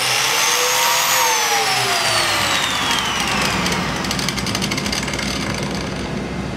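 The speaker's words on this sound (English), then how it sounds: "The trigger on this biscuit joiner is at the back, so you push that in, turn it on, and then go forward." A biscuit joiner whines loudly and steadily at close range as it spins up, its pitch slowly sliding as the motor runs on.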